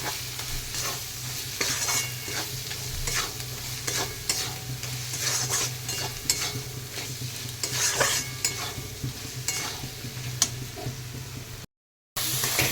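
Masala sautéing in a pan with salt and turmeric for Bengali mutton kosha: a steady close sizzle with repeated scraping stirs, a brief dropout near the end, no talk.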